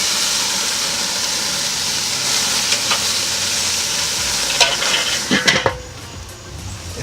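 Burgers on a grill give off a loud, steady sizzle just after being flipped, with a few clicks and scrapes of a spatula before the hiss drops slightly at the end.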